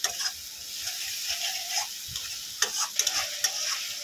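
Spice paste for egg korma sizzles in a pan while being stirred, with soft scraping strokes of the spoon over a steady frying hiss and a few sharper clicks toward the end, no voices.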